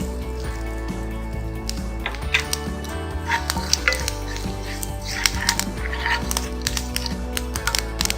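Garam masala, red chilli and mustard seeds fry over a low flame in a pan for peanut chutney, a soft steady sizzle dotted with crackling pops and light utensil scrapes, close up with no voices.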